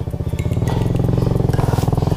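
A motorcycle labouring up a steep slope of loose sand, its engine pulsing in a fast, rough, even throb that stays loud and close throughout.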